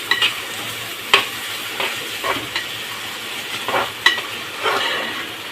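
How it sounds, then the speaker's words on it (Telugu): Onions fry in hot oil with a steady crackling sizzle, close and even, broken by several sharp clinks and scrapes of a stirring spoon against the pan. "ఇదండి ఆయిల్లో వేడెక్కిన తర్వాత ఆనియన్స్ వేసాము"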